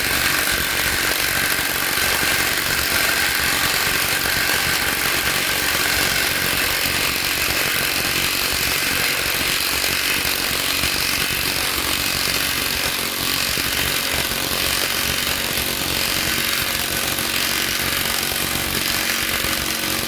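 Ozito 18V cordless impact driver driving screws into wood: a loud, steady, continuous motor whir with rattling hammering texture, running without pause throughout.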